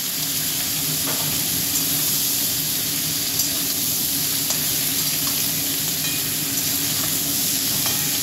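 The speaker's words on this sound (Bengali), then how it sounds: "এই তেলেতে এঁচোড়টাকে ভেজে নিচ্ছি।" Pieces of young jackfruit fry in hot oil, already used for potatoes, giving a steady, even sizzle and hiss close by, with occasional faint crackles and no talk.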